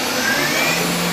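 A 2011 Doosan Puma 2600M CNC lathe's spindle runs at speed, a steady loud whirring whine with a broadband rush, close up and without talk.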